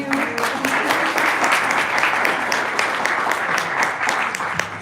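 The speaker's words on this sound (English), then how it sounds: "Maybe we'll do a round of applause for them." Audience at a public policy briefing applauds the panelists, steady close clapping from a room of people that holds for several seconds before easing slightly.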